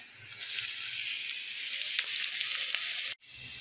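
Sliced onions hit hot oil and set off a loud, steady hiss of sizzling that carries on evenly, then cuts off sharply near the end.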